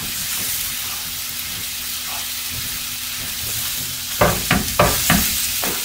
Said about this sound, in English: stir around, stir around, stir around